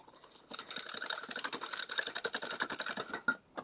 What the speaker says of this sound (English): Let's give that a whisk.